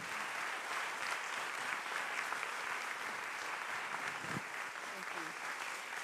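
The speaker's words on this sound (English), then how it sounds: "Can I get a big applause for Sara Galli?" A seated audience at a talk event gives a sustained round of applause, even and moderately distant, with faint voices briefly audible near the end.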